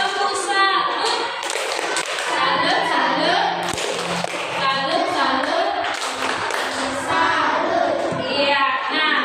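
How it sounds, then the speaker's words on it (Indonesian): Audience in a classroom or school session giving a rhythmic salute clap, dense bursts of hand claps and taps filling the clip, with voices and crowd noise mixed in throughout. "Tepuk salut."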